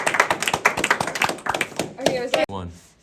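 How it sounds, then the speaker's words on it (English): A few people clapping in quick, uneven claps that break off abruptly near the end, with talking mixed in. "let's give him a round of applause"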